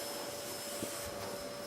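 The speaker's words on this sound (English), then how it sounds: "You know, I love doing the Hoover." Vacuum cleaner hoovering a sitting room, a steady broadband roar running continuously and close throughout, with a faint bump partway through.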